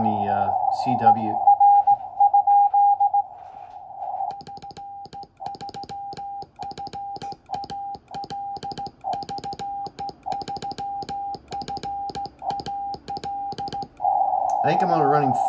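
Morse code CW sidetone keyed out on a Xiegu X6200 amateur radio through an external speaker, a steady pitched tone broken into rapid dits and dahs for about ten seconds, framed by louder bursts at start and end.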